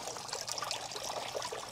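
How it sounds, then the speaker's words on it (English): Water pours steadily from the top of a lion-head landscape fountain at night, a continuous close splashing trickle with no voices. "there's the water coming out the top, and then we have the water coming out of the lion's mouth"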